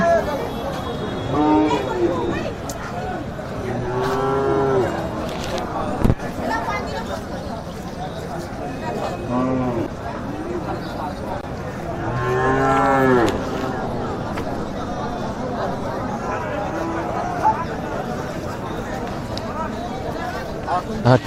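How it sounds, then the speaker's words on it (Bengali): Large Indian bullocks at a border cattle market lowing in long, loud moos, several calls spaced apart amid crowd chatter and someone talking over the din. "এই অনেক অনেক বড় বড় আপনার বলদ আর কি এগুলা ইন্ডিয়ান বলদ ইন্ডিয়ান বলদ আপনারা দেখুন"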